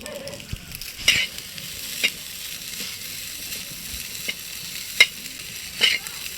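Egg fried rice with turmeric sizzles steadily in a pan while a spoon stirs it, giving soft scraping strokes and a few sharper knocks against the pan at irregular intervals, fairly quiet with no talk.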